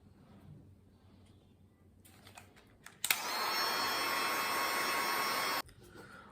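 Heat gun warming foam armor pieces for a Batman costume, a sudden loud steady blowing whir that runs for a couple of seconds before cutting off, preceded by soft handling clicks.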